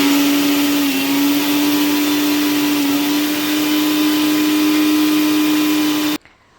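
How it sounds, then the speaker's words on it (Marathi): A kitchen mixer grinder whirs steadily at high speed while grinding coconut chutney with green chillies, curd, salt and sugar, a loud continuous close motor drone with a slight pitch dip, cutting off abruptly at the end. "त्यात 4-5 मिरच्या घालून दही घातलेलं आहे आणि चवीनुसार मीठ आणि 2 चमचे साखर घालून मिक्सरमधून ही बारीक वाटून घेत आहे."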